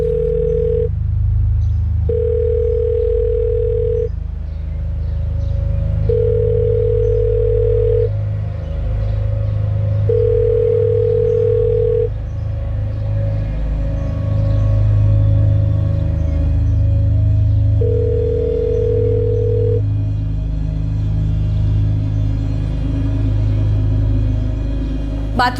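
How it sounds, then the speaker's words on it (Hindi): A mobile phone ringing somewhere in a house: a steady electronic ring tone sounding in repeated bursts about two seconds long with short gaps, over a constant low rumble. "रिंग बज रही है पर पता नहीं कहाँ पे रख दिया फोन"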